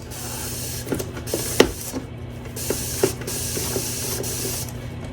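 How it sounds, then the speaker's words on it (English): A few short bursts of alcohol from a spray bottle hiss close by against a steady background hum, with faint clicks and handling noises between them. "And then spray some alcohol in here."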